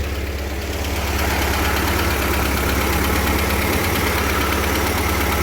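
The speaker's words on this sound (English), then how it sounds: "It's running good, I like the noise of the motor." A 1970 VW Karmann Ghia air-cooled engine idles steadily up close, a loud even drone with a fast rhythmic valve tick running throughout.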